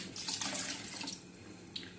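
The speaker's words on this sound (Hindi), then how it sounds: "थोड़ा सा पानी कम है, हम थोड़ा सा और पानी डालेंगे।" A short, close stream of water splashes into a pot of rice being prepared for junglee pulao, a brief steady pour with no talking.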